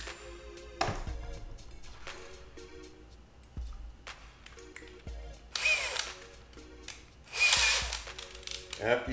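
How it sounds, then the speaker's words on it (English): Power drill driving small screws into a stick for a homemade camera monopod, with short bursts of whirring and pauses between, plus handling clatter and a few bumps. "Take one, and drill it on in."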